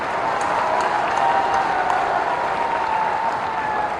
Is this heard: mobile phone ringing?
no